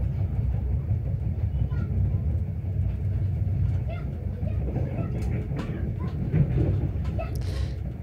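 A passenger train running on the Belgrade-Bar railway in Serbia, heard from inside as a steady low rumble and rattle that continues throughout, loud and close, with occasional faint clicks.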